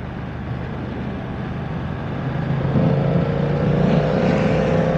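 While a BMW F900R motorcycle is out on a test ride, its engine drones steadily, then swells louder and rises in pitch after a few seconds as the bike accelerates.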